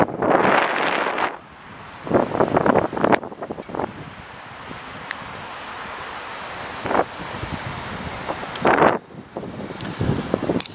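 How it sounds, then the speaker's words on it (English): Strong gusty wind by the riverfront in Dublin buffets the microphone in loud rumbling bursts that come and go, with quieter lulls between the gusts. "You probably can't hear me because it's so bloody windy."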